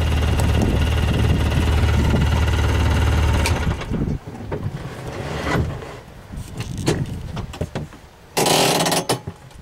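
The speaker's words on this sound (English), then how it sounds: "We'll drive over the log again." Polaris Ranger XP utility vehicle in four-wheel drive rolls over a log, its engine droning loud and steady at first, then easing to a quieter idle broken by knocks and creaks before a brief surge of revving near the end.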